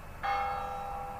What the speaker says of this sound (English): that sounded like a church bell